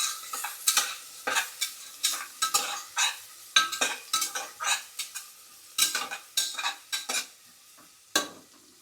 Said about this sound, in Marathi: आता याला चांगलं ब्राऊन कलर होईपर्यंत भाजून घ्यायचं.